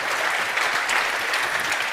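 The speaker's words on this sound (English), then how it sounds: "That applause is well deserved." A conference audience applauds steadily as a presenter comes on stage, a dense, even wash of many hands clapping close by for the whole stretch with no break.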